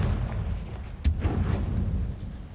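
Confringo explosive spell cast in Hogwarts Legacy, a single sharp blast striking about one second in, followed by a rumbling low-end decay over a steady bass-heavy game background.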